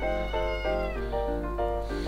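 A cat meows repeatedly up close, a series of about five loud, drawn-out, rising and falling cries in quick succession with no talk over them.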